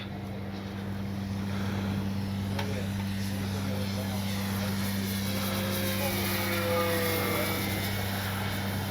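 A Dynam EMB-312 Tucano RC model airplane's motor whines steadily overhead, a constant propeller drone with a slight rise and fall as it flies past in wind.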